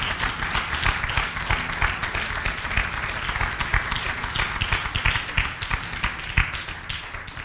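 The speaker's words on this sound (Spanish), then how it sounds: "Si quiere aplaudir, apláudale" A church congregation claps, producing a fairly faint, uneven patter of hand claps from a moderate crowd that continues steadily throughout with no one speaking.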